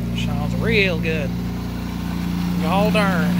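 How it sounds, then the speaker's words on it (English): The engine of a 1994 Subaru Legacy GT idles high inside a garage after sitting over a year, a steady low hum running throughout while people talk over it. "She's idling high."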